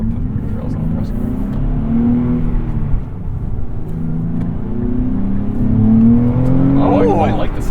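Engine of a 2023 Nissan Z with six-speed manual accelerating, a steady low drone with rising harmonic sweeps heard from inside the cabin, holding loud throughout.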